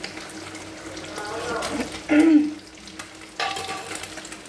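Dal cooking in a pan with a spoonful of ghee just added; a low sizzle and soft stirring with a louder burst partway through, and a voice speaks over it.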